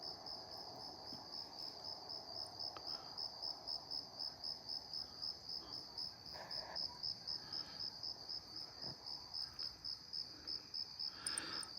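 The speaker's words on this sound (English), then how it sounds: "So we got crickets are singing" Crickets singing at night in rural California, a steady high-pitched pulsing chirp repeating evenly throughout, soft and moderately distant with faint background hiss.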